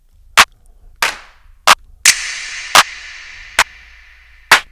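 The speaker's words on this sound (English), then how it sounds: "these are all the claps that are in the Velvet Bloom expansion" Drum-kit clap samples from the Velvet Bloom expansion play one after another: seven crisp, separate hits with short gaps between them, some dry and some with a longer ringing tail.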